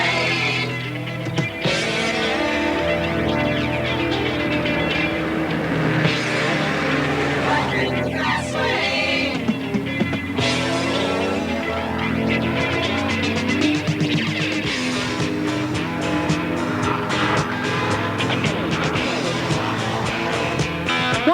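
A Formula Ford race car from a 1984 racing school heads out of the pits onto the track, its engine a steady, loud, continuous drone under a layer of hum, with no talking.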